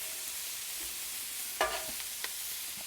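A birria smash burger patty sizzling on a Solo Stove Steelfire griddle, a constant bright hiss with a couple of brief spatula scrapes, close and with no talking.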